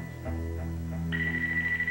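A telephone rings in an indoor television drama scene: a steady electronic ringing tone begins partway through and continues, fairly loud, over a low background hum, with no talk.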